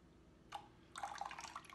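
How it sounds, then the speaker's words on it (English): Evaporated milk poured from a can into a bowl for a tres leches cake, a faint, close, brief liquid splash that starts with a short spurt and then turns into a fuller trickling pour. "we're just going to pour them all into a bowl and give them a good whisk"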